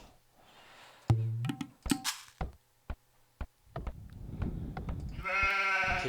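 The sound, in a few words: sheep bleating in Age of Empires video game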